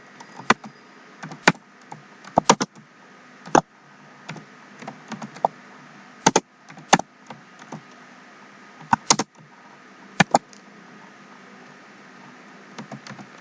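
Someone types code on a computer keyboard: scattered sharp key clicks in uneven bursts with pauses between them, close and fairly quiet, with no talking.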